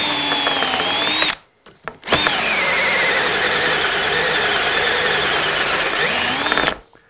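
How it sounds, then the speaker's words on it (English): A power drill whines steadily at high speed through two long bursts, drilling hinge holes in a wooden door, with a brief pause between them where the motor cuts out and restarts. "I just drilled the holes for a door"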